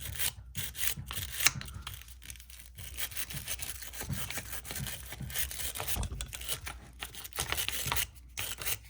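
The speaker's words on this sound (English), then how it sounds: "I'm going to have to take a firmer brush to it than that." Firm brush scrubbing old gunk out of a Singer 500A sewing machine, with repeated close scratchy bristle strokes in quick irregular bursts and short pauses between them.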